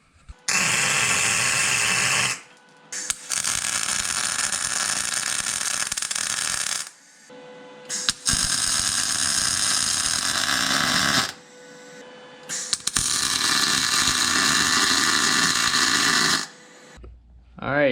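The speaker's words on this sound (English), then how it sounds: "So let me get the welder." A welder tack welds axle perches onto a 1965 Dodge Dart. Three long, loud, crackling buzzes of several seconds each are separated by short silences, with an electrical hum beneath.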